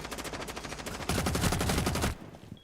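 Rapid automatic gunfire in a video game, a fast burst of shots that grows louder midway before stopping abruptly, with faint background noise afterward.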